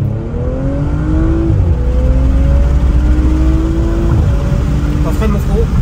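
A loud car engine pulls hard through the gears, its rising whine climbing steadily, with a brief dip at a shift, heard from inside the cabin as people talk.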